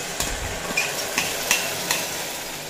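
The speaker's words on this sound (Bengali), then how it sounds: "এরপর এড করে দেব বেটে রাখা মশলা।" Ground spice paste hitting potatoes frying in a pan for a pumpkin curry, a steady sizzle with a few soft stirring scrapes spaced about half a second apart, close and alone.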